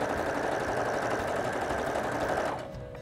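A sewing machine stitches along fabric toward a corner with a fast, even mechanical whir that runs steadily for about two and a half seconds, then stops, leaving a faint hum.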